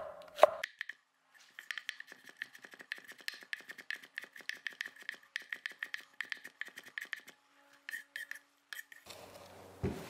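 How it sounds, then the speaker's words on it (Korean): A knife taps rapidly and rhythmically on a cutting board as chili peppers are finely chopped, dozens of crisp close strikes in a steady run with a short pause near the end, in a quiet kitchen. "고추는요 조금 다지듯이 썰어 주셔야 나중에 드실 때 이게 씹히는 맛이 좀 덜해요"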